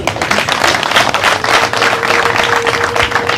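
Clapping from an audience at a live stage show, steady and fairly loud throughout, with a faint sustained tone running beneath it partway through.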